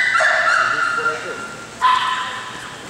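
A dog yips and whimpers in high, drawn-out cries during an owner-handler training seminar, two bursts close and fairly loud with a short pause between.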